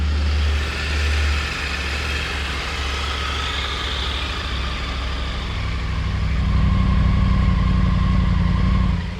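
A Triumph Tiger 900 GT Alpine Edition motorcycle with a titanium exhaust idles close by with a deep, bassy, steady rumble, and near the end a light rev raises the tone.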